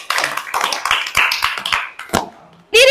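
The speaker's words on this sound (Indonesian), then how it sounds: "Selamat beri tepuk tangan." A classroom audience in a school lesson gives a round of clapping, sharp hand claps in quick succession that thin out, then a loud burst at the very end.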